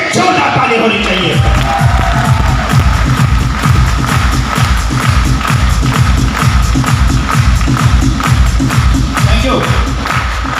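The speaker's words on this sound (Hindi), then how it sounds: "मैं चाहूंगा ऊपर वाले के लिए जोरदार ताली होनी चाहिए।" Loud, dense audience clapping at a motivational success-story event, quickly settling into a strong rhythmic unison beat that repeats steadily, with crowd noise underneath.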